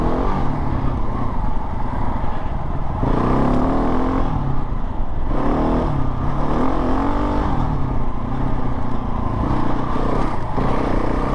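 A modified KTM 690 Enduro motorcycle is ridden off-road, its engine loud and close as it revs up and eases off repeatedly in surging bursts.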